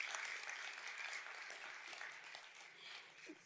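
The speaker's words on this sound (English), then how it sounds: "Might I ask you to please give my panelists a big round of applause" An audience at the Stockholm+50 conference applauds its panelists, a brief burst of steady, dense clapping that sounds soft and somewhat distant.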